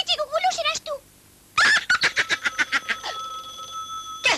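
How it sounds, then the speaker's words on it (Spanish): A cartoon telephone rings in a fast electronic warble that starts midway and carries on to the end. Animated character voices talk over it before and during the ringing. "Contesta al teléfono."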